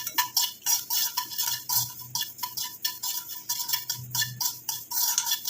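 Cloves lightly frying in a pan while a utensil stirs them, producing quick, repeated metallic taps and scrapes in a busy rhythm, close and clear with no voices.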